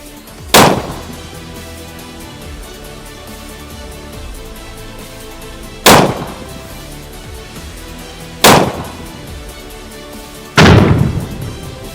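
A Sako 85 rifle in .416 Rigby firing 400-grain Swift A-frame loads at a cinder block down range: four loud, sharp, isolated shots spaced several seconds apart, each with a short decaying tail.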